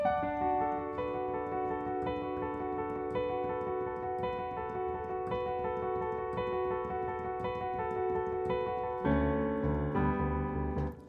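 Piano playing the intro of a song as an easy arrangement, with a sustained repeating pattern of clear notes over held bass that swells slightly near the end.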